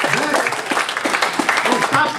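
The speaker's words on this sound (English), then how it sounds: "stop clapping because you don't count" Audience at a town hall meeting applauding, with steady dense clapping filling the whole moment and voices mixed in underneath.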